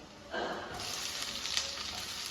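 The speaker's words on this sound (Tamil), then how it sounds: "வெங்காயம் நல்லா வதங்கட்டும்" Onions dropped into hot oil with ginger and garlic start a sudden soft sizzle that keeps hissing at a moderate level through the short stretch.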